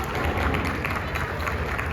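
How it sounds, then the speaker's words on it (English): Applause and cheering from the audience at a live Justice League superhero show in Jeddah, Saudi Arabia. It is steady, dense crowd clapping, fairly close, filling the whole two seconds with crowd noise. "give yourselves a round of applause"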